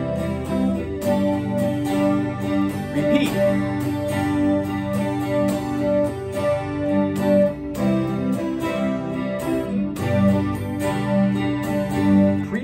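Acoustic guitar strummed in a steady down-up pattern through a song's verse chords, dense and continuous at close range, with one brief spoken word partway through.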